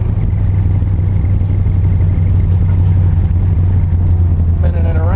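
A Dodge Dart drag car on big rear and small front tires drives and turns around, its engine a steady, loud low rumble with a brief rising whine near the end.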